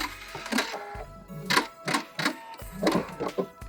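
A sewing machine back stitches the end of a seam on a pouch made from a thrifted tie, running in short, close mechanical bursts of clattering needle strikes separated by brief pauses.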